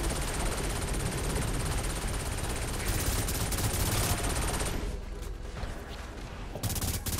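Dense, continuous automatic gunfire from a chaotic Saints Row 4 firefight, loud and close, with overlapping bursts and explosions. It dips briefly before the shooting swells again, and no one speaks.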